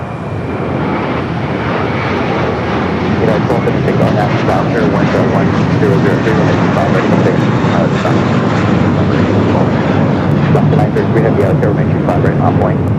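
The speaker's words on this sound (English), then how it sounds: "Next takeoff, flight to JFK, flight 307, American Airlines" An American Airlines A321 takes off at LAX, a loud, continuous jet engine roar that holds steady and close throughout, with faint voices underneath.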